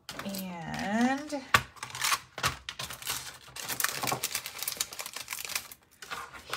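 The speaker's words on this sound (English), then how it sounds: "So we're going to die cut all this stuff." A die cutting machine cuts paper and foam, giving a run of sharp clicks and rattling mechanical bursts, fairly close and loud, with a brief rising whine near the start.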